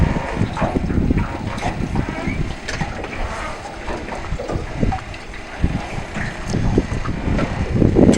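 A boat engine runs while cooling water spouts out the aft at a fjord-side marina. It makes a steady mid-level rumble and splash, mixed with wind buffeting the microphone, and a voice talks over it intermittently.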